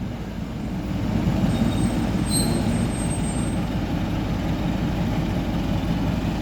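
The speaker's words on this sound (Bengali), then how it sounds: "এই যে চলে এসছে, এই যে সেই টয় ট্রেন" A heritage diesel toy train pulls into Rongtong station, a steady low rumble and rattle of engine and wagons that holds close and loud throughout, with a faint high squeal of brakes briefly rising above it.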